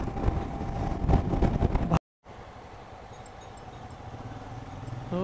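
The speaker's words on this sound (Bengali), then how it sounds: "তো বাইক খুব স্মুথ চলছে এখন।" A motorcycle on a group ride from Kolkata to Tajpur rolls along the highway with a loud engine drone and rushing wind noise, briefly dropping out, then resuming as a quieter, steady road hum.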